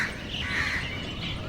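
Birds call and chirp outside a family home, with crow-like caws and tweets repeating as a steady chorus at moderate distance, no talking over them.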